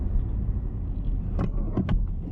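Inside a 2020 Kia Optima SXL driving over a road bump: steady cabin road rumble, then two or three soft, muffled thumps in quick succession as the suspension takes the bump.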